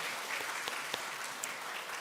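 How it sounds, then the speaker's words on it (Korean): A church congregation at a Korean Sunday morning service claps to welcome a newcomer, a short, faint burst of scattered hand claps heard from a distance. "우리 환영의 박수 한번 부탁드리겠습니다"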